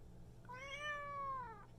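A cat gives one drawn-out, clear meow at moderate distance, rising then falling over a low steady hum.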